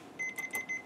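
A multimeter emits a series of four short, evenly spaced high electronic beeps. It is faint but clear, heard while an extension cord is being tested.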